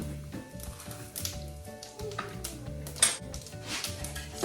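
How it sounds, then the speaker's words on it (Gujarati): Cumin seeds sizzling in hot oil in a home kitchen, with a soft, steady crackle running beneath occasional clinks of a pan and utensil, near and fairly faint. "થોડુંક તેલ ગરમ કરીને આપણે એમાં જીરું નાખી દઈશું."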